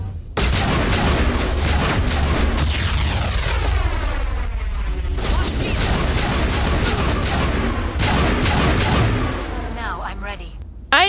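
Rapid video-game gunfire fills the scene, with dense bursts of loud shots and booming impacts running almost continuously, plus brief pauses and a final blast near the end.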